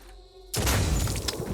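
A shotgun blast in the video game Blood and Titanium: after a quiet moment, one sudden loud boom bursts in and rings out as a dense, sustained roar.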